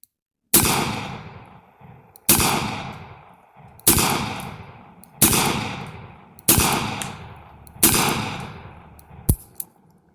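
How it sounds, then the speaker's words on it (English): Six loud, sharp .45 ACP gunshots from a Smith & Wesson Governor revolver, fired one at a time at a steady pace about every one and a half seconds, each shot followed by a short ringing decay. "Let's just shoot some more 45 ACP here."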